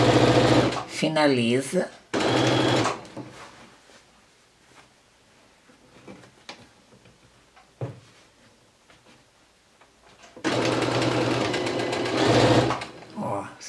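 A sewing machine stitches a fabric border onto a round towel in two loud bursts, one at the start and one near the end, with quiet handling and someone talking in between.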